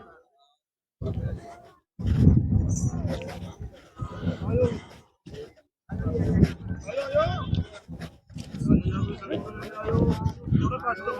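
Goats and bucks bleat repeatedly at a weekly goat market and fair in Mullanpur Dakha, loud nearby cries in bursts mixed with people talking throughout.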